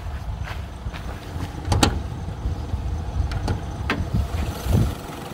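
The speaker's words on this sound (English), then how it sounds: "So let me show you once again the engine." A Toyota Mark II GX100 idles with its engine exposed: a steady low rumble runs throughout, close by, broken by a few sharp clicks and light mechanical ticks.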